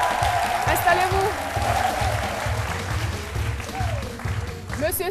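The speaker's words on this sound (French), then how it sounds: "Je vous demande de l'applaudir." A studio audience applauds a guest invited on stage during a midday TV talk show, a steady clatter of many hands that holds for a few seconds over low background music and faint voices.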